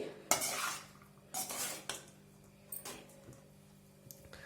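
A spatula scrapes and clanks through Hapima instant hot and spicy fried rice in a pan, mixing in finely chopped coriander garnish, with several distinct scraping strokes and metallic knocks over a low steady hum and no talking.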